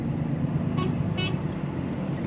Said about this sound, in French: Qui c'est qui klaxonne?